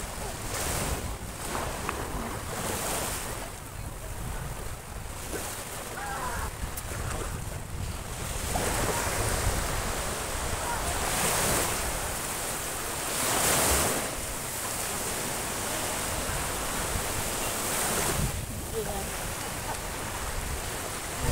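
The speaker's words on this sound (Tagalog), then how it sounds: "Ito yung seaside." Sea waves wash steadily onto the sandy Boracay seashore, a continuous broad surf roar with periodic swells of breaking water and some wind rumble, with no talk over it.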